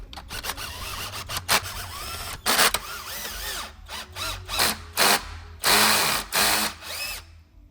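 Bolts on a BMW M57 diesel valve cover are run down with a power driver in short, repeated whirring bursts with gaps between, loud and close, with some ratcheting clicks.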